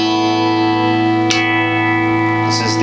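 An electric guitar plays through a Mesa Boogie Road King II amp with a loud, sustained, harmonically rich tone that rings steadily, cut by one brief sharp click partway through.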